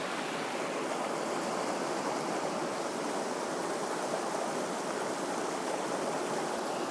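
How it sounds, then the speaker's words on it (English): River rapids at Lane Poole Reserve rushing in a steady, dense roar of flowing water, continuous and fairly close with no voices. "So I've got sort of the main rapids here in frame."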